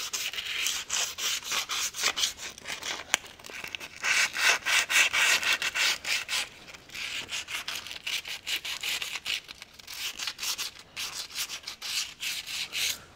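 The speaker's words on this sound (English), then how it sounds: "I have a little bit of sandpaper here" Sandpaper rubs back and forth over a John Deere 4WD tractor front hub surface, a close, rhythmic series of dry scratching strokes with brief pauses between bursts.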